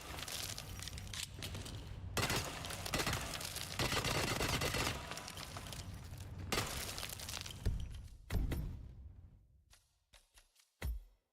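Video game SMG fire comes as loud, dense bursts of rapid shots that run for several seconds. Shorter bursts and single cracks follow, with gaps of near silence between them and no talk.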